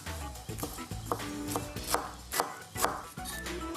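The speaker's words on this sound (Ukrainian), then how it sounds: "Дрібно нарізаю." Steady, rhythmic knife chops on a cutting board, finely chopping parsley and dill, about two per second, close and clear, with soft background music.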